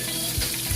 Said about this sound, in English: the oil is sizzling with the butter in there